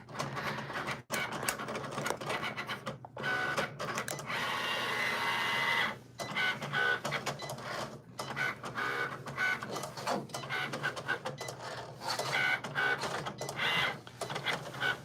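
A Cricut Explore Air 2 cutter cuts puff print heat-transfer vinyl with whirring carriage moves and small stepping motor whines in repeated start-stop bursts, close up, with no speech.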